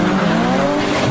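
Race cars launching at full throttle in the Initial D anime, a short burst of loud, high-revving engine roar with a hint of tire squeal.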